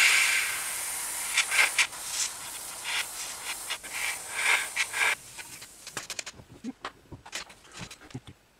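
A brush strokes thick Tamiya paint along the seams of an Airfix 1/48 Canadair Sabre F.4 model kit, soft close rubbing swishes in short bursts, then lighter scattered dabs.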